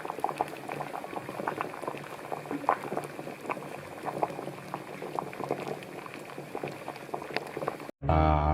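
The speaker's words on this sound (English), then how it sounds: "So I got my water to a boil, boiled them for about 10 minutes" A pot of water boils on the stove to hard-boil six eggs. Dense, continuous bubbling and popping go on steadily at close range, then cut off abruptly near the end.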